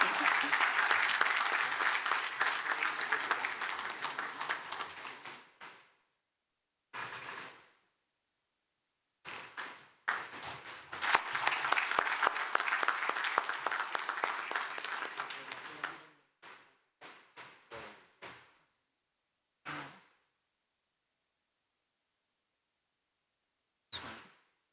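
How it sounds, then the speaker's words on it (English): An audience at an Islamic capital markets conference bursts into sustained applause, dies down, swells again, then breaks into scattered individual claps with quiet gaps between. "Perhaps the last one needs a lot of clapping and a lot of applause from your side"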